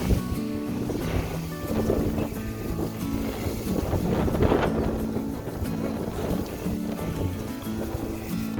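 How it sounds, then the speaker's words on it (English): Steady wind buffeting the microphone on a pond trail at South Padre Island, a continuous rushing roar with gusts rising and falling throughout. "This is just a little windy."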